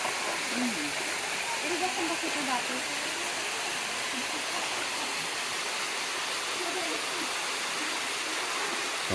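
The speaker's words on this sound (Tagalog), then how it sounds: "andito na kami sa maliit na waterfalls ng uh, Patnanongan" Constant broadband rush of a small waterfall on Patnanungan Island, steady and moderately close throughout, with faint voices in the background.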